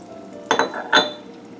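Butter goes into a pan to start a roux for étouffée with two quick metallic clinks about half a second apart, close and fairly quiet, with no talking.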